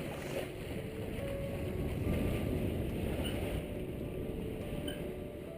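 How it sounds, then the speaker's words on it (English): A sailboat with Doyle sails trimmed tight, sailing on a close reach over dead-flat water inside the Great Barrier Reef: a steady, low rushing of water and wind, continuous and even throughout, with no talking. "Our doyle sails tightened right in, keep us going on a close reach."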